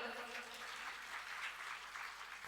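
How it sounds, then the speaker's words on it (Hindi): Applause for Rajesh at a live Shrimad Bhagavat Katha gathering in Agra, a steady, moderately faint wash of many hands clapping that holds evenly throughout. "इनके लिए जोरदार तालियां बजाओ।"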